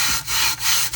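Rubbing or sanding a custom resin tumbler: steady, loud abrasive scrubbing strokes close up, in three pulses separated by brief pauses, with no talk.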